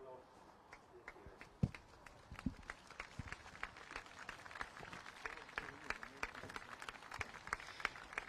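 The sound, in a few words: live crowd clapping in tribute to the NHS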